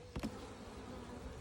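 Agitated honeybees buzz around a Flow Hive, a faint, steady hum with two brief louder swells near the start.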